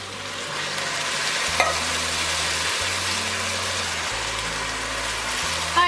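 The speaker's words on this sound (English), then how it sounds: "So now that that's browned, I'm gonna go ahead and add in my tomatoes." Browned ground meat sizzling in a pan as tomatoes go in and are stirred, a continuous hissing fry with a clatter near the start and low background music underneath.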